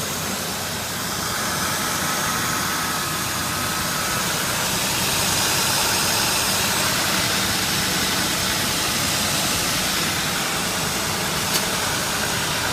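2003 Ford Taurus 3.0 litre 24-valve DOHC Duratec V6 runs steadily during an engine test, a constant, even hiss-laden hum with no talk.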